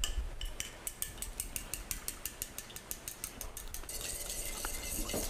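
Eggs being beaten by hand in a bowl with a utensil, a quick, steady run of light clinking strokes close by, easing into a softer, continuous swirl toward the end.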